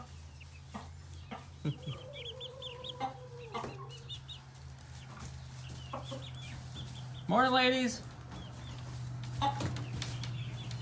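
Month-old meat chickens cluck and chirp softly inside their coop, with one louder drawn-out call near the end, over a steady background hum; a person briefly speaks to them.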